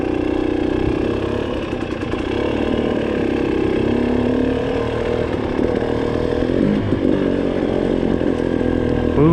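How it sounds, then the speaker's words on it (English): A dirt bike engine runs steadily on a forest trail near a burning aspen campfire, a continuous mid-pitched drone that holds loud and even throughout with no breaks. "Boom, dirt bike."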